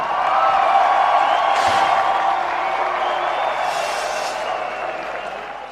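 A large audience applauds and cheers for a DJ at a DJ poll event, a broad wash of clapping with a couple of swelling whoops that slowly fades, heard from within the crowd.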